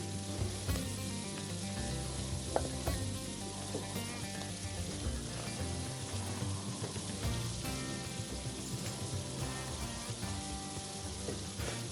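Ham and Swiss sliders on a griddle sizzle with a steady, dense hiss as hot honey is drizzled over them, a continuous close frying sound with no talking.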